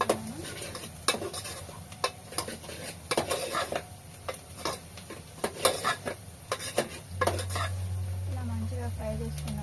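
Garlic paste fries in a pan under a quiet low sizzle, broken by repeated sharp clanks and scrapes of a metal spoon against the pan, uneven and close. A low hum enters near the end.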